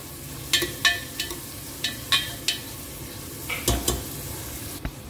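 Onions and a bay leaf frying in a pan for a Konkani-style mutton curry, with soft sizzling broken by a series of sharp stirring scrapes and clinks spaced through the clip, close and moderately loud, with no talking.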